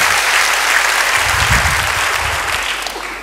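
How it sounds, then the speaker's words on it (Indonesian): Church congregation applauding during a Pentecost service, a steady dense wash of clapping that holds throughout, with low cheers or voices murmuring beneath it. "Beri tepuk tangan bagi dia."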